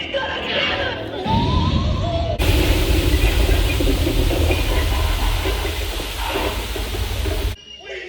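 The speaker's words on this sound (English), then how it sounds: "What an explosion!" A cannon explosion effect in the Muppet Vision 3D theater show bursts as a loud, roaring blast that lasts about five seconds after brief character voices, then cuts off sharply.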